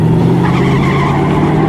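A car reversing fast at speed, its tires skidding and squealing in a steady, loud, continuous roar with engine noise underneath, close by.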